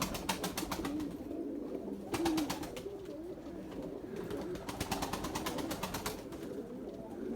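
Young white pigeons coo and flutter close by, soft throaty coos repeating over bursts of rapid wing-flapping as they take off and fly, with nobody talking.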